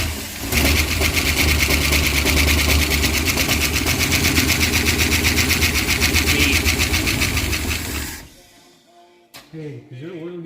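A neglected 1968 Dodge wagon engine cranks and catches under throttle, roaring loud and steady up close for about eight seconds before cutting off, followed by a quiet moment and a faint voice.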